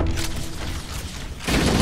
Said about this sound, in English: Blowing up grenades.